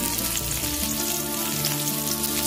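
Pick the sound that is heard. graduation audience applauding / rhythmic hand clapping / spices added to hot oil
spices added to hot oil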